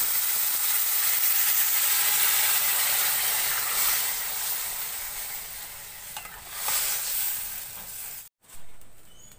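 Water is poured into a hot pan of sautéed vegetables, setting off a loud, hissing sizzle that slowly fades, followed by a brief scrape and a sudden cut near the end, with no talking.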